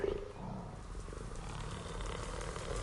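Jaguar growls and low roaring rumble from a backstage enclosure in Planet Zoo, steady and close throughout with a dense ambient bed, no talk.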